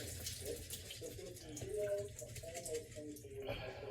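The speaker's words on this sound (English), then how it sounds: "So I put some water in there, and I'm going to get all of those sprouts nice and wet" Water running into a glass jar of sprouts, a steady close splashing and trickling throughout with brief glassy ringing tones, ending in a sharper rush as the flow changes.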